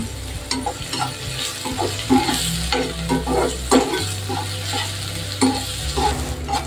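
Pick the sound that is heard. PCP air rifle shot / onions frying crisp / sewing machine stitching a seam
onions frying crisp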